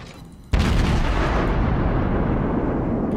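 Heavy naval gunfire from a Des Moines Tier X cruiser in World of Warships: a sudden loud blast, then sustained rumbling barrage with overlapping booms throughout, no speech.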